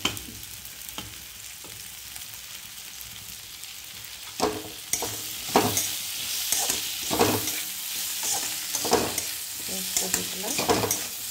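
Ginger, garlic and chili paste frying in a pan, a steady close sizzle broken by repeated stirring scrapes and clatters in an irregular rhythm, with no talking.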